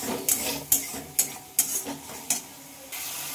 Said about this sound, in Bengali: মশলাটা নেড়ে চেড়ে ভালোভাবে কষিয়ে নিতে হবে।